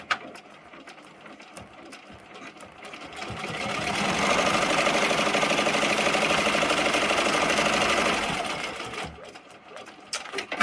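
An embroidery machine stitching a placement outline for a melon applique on a T-shirt, a steady rapid mechanical whir that swells loud in the middle and eases off at the ends.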